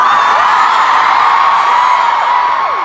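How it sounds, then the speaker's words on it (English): A huge stadium crowd at a concert at Soldier Field in Chicago roars continuously, with rising whoops and shouts cutting through a dense, loud wall of cheering. "Your voices and cheers get so much attention around the world."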